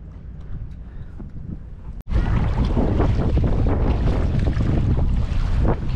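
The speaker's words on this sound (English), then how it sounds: "now you guys can see how windy it is out here" Strong wind buffets a boat out on the water during a trout-fishing trip, rumbling softly at first, then jumping to a loud, continuous roar of gusts against the microphone.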